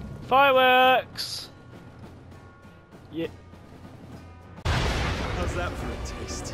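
Fireworks bursting in Assassin's Creed Syndicate, a sudden loud, broad crackling blast that rolls on for a couple of seconds, coming after a sung line and some quiet game sounds.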